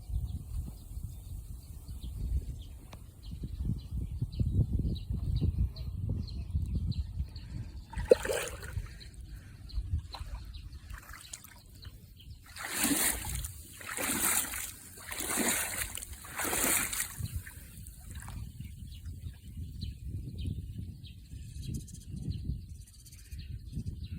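Someone wades through knee-deep rainwater across a flooded field, with soft sloshing and splashing close by and a few louder splashy strides midway, under faint outdoor ambience and occasional birds.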